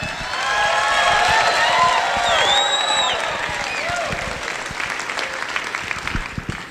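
An audience at a stand-up comedy show bursts into loud applause, with whoops and whistles rising over the clapping before the cheering slowly thins out.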